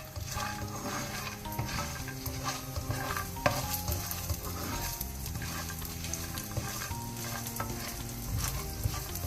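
Brinjal, garlic, ginger and three chillies roasting in a pan, sizzling and crackling steadily and close, with repeated scraping stirs of a spatula throughout.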